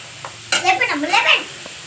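Chopped onion, carrot, tomato, green chili and coriander hit a hot pan for sago upma, bursting into a sudden loud sizzle that crackles on while a voice speaks over it.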